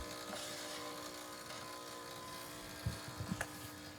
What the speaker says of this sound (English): The pump will come on. That's just the machine refilling the boiler,